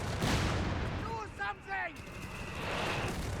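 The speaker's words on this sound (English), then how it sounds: "Another barrage coming out" Artillery barrage in the Company of Heroes 3 video game: a steady roar of distant shelling with several rising whistles of incoming rounds layered over the rumble, continuous for a few seconds.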